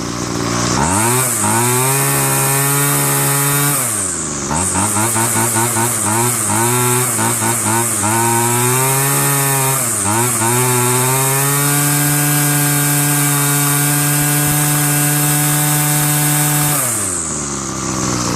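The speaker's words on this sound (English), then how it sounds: "Check out this throttle." The two-stroke engine of a Homelite Mighty Lite 26CS curved-shaft weed trimmer, freshly fitted with a new fuel line and primer bulb and newly tuned, revs up and down as the throttle is worked, loud and close, then holds a high whine.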